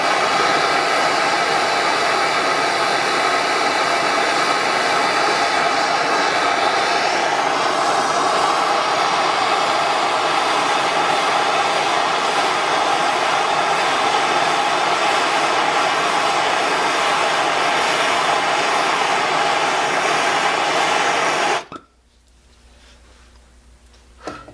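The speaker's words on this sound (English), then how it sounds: "what I just did was I burned out the old rubber." A torch flame burning out old rubber on a Coleman 502 stove, a loud continuous roar sustained for over twenty seconds before it shuts off abruptly into quiet.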